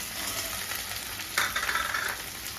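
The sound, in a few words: asafoetida, turmeric and potato slices frying in oil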